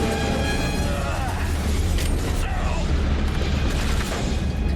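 Explosions rumble through a chaotic firefight in the shooter game The Bureau: XCOM Declassified, with a heavy boom and bursts layered over gunfire and game noise while a player talks excitedly over it.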